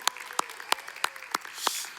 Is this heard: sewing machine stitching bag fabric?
no